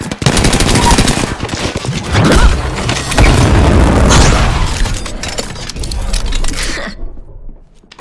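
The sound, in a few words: weapon fire in Apex Legends video game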